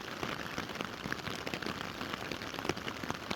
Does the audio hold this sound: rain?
yes